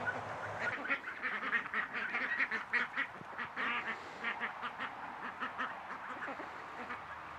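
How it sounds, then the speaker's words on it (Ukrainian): A group of domestic Orvia ducks in a home farmyard quacking continuously and busily, many overlapping calls close by, with no talking. "Качка гарна, вже більше півтора кілограма."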